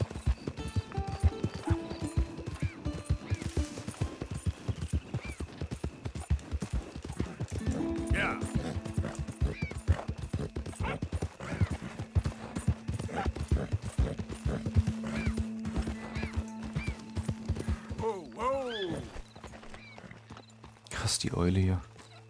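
Horse hooves clip-clop steadily across open country in Red Dead Redemption 2, a fast rhythmic beat under a voice, with a neigh and other game sounds breaking in near the end.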